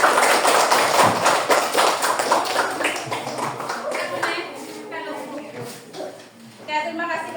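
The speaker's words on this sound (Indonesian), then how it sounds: "Tepuk tangan untuk kelompok 5." A classroom group gets a round of clapping after presenting, many hands patting together in a busy burst that thins out, with voices and chatter mixed in toward the end.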